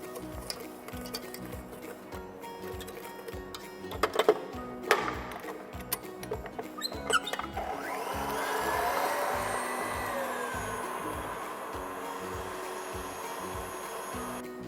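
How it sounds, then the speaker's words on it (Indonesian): Electric mixer whisking eggs, sugar and cake emulsifier for a layered spiku cake, a steady motor whir with rhythmic beater ticks against the bowl, rising to a fuller, louder hum partway through. "Keempat bahan ini kita kocok sampai mengembang dan kental."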